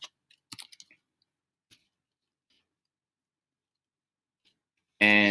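Typing on a computer keyboard: a quick cluster of soft, close key clicks near the start, then scattered isolated taps amid near silence, ending in a sudden loud burst.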